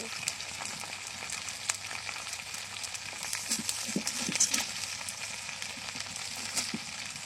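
Homemade rice kurkure snacks fry in hot oil, giving a steady close sizzle with scattered small pops and soft clicks of a utensil, no one speaking.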